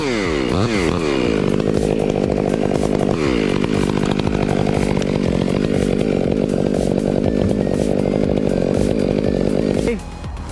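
Chainsaw cutting into a tree, loud and close, revving up twice before holding a steady buzzing snarl through the wood, then dropping off abruptly near the end.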